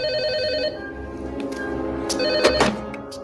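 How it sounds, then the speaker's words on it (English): Telephone ringing in a Jurassic Park film scene, a steady electronic ring tone repeating in bursts, loud and close, with brief sharp clicks and rustles near the end and no talk over it. "Grant goes and calls Hammond on the phone"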